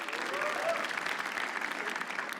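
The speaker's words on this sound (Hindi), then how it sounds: "तालियां प्लीज।" Audience applause at a comedy show, a dense burst of clapping from a crowd that carries steadily for a couple of seconds.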